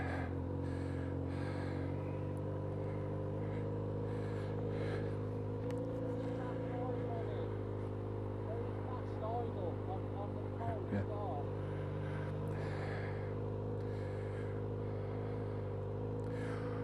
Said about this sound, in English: Settling into a nice little burble.